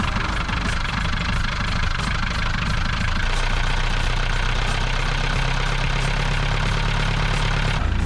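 A sailboat's inboard engine idles steadily in an enclosed space while driving a newly fitted alternator, a constant low rumble with a slight shift in tone about three seconds in, close and loud, with no talk.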